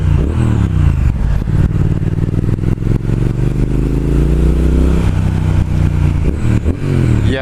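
A 2019 Triumph Speed Twin motorcycle in sports mode pulls hard through the gears, its twin-cylinder engine note rising and dropping with each shift, loud and close over wind rush, with no speech.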